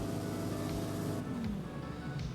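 A low-revving AMG V12 engine in a car in a racing video game drones steadily, its pitch sliding up and down as the revs change, with no talk over it.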